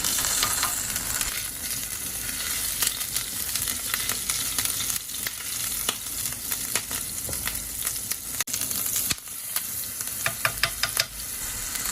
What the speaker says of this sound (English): Then you begin sauteing the minced ginger and the minced garlic together with the chili flakes